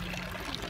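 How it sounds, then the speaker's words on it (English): Water from a town fountain in Appenzell, Switzerland, pours steadily into water bottles, a close, continuous splashing stream heard alone for under a second. "Here's the girls filling up their water."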